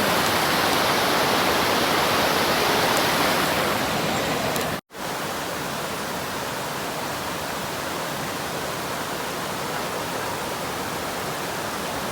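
A waterfall at Khao Yai roars as steady, loud broadband rushing water, unbroken except for a momentary cut midway, with no talk over it.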